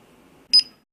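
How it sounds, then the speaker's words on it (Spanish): A single short electronic trouble beep from a DSC PowerSeries 9045 alarm keypad, bright and clear, over a faint low hum, then silence. "el teclado sonará dos veces cada 10 segundos para llamar la atención sobre un posible problema"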